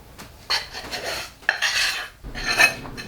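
Metal scraping as play clay is pushed out of a pan onto a counter, a few rough rasping strokes with short pauses between them, close and fairly loud.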